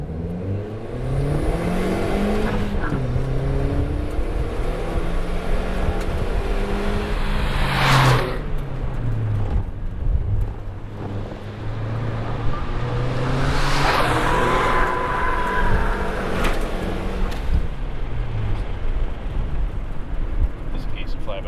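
A turbocharged Toyota Yaris accelerates hard from a standstill, its engine revving up through several gears with rising and falling pitch at each shift, loud and close from inside the car, with people talking over it.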